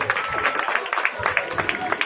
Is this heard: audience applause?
yes